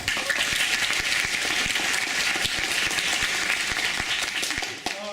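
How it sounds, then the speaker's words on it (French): Steady applause from a studio audience on a French television show, loud and sustained for several seconds before cutting off abruptly near the end. "quand je fais ça, vous applaudissez"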